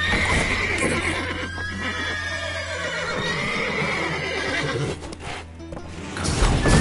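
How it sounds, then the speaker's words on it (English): Horses in The Witcher 3 neighing loudly and repeatedly with whinnies rising and falling, hooves shuffling and clopping underneath, a busy close scene with no speech. "Calm the horses."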